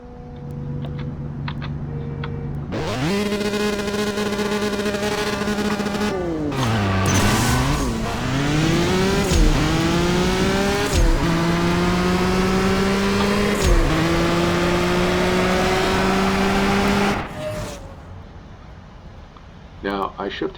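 A Ferrari F12berlinetta in the CSR Racing 2 drag race launches and revs hard, its engine note climbing through several upshifts for about fifteen seconds before cutting off. It is loud and close, with a voice talking over it.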